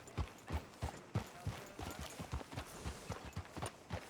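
Horse hooves clip-clopping at a steady walking rhythm in Red Dead Redemption 2, a series of distinct close thuds repeating about three times per second, fairly soft and alone.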